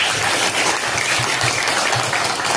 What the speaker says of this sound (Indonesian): Tepuk tangan untuk Salsa.